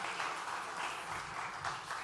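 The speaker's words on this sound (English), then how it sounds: "You got a warm round of applause, please" Faint, steady applause from a conference stage audience welcoming a speaker, a soft, even wash of many hands clapping at a distance.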